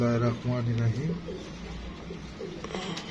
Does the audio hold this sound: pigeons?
yes